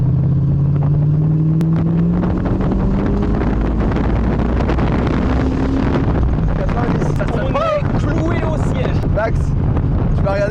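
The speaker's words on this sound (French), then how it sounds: "Alors, on va accélérer un peu." A Chevrolet Corvette C4 accelerates from inside the cabin, its engine note climbing steadily under heavy wind buffeting. Voices talk over it later on.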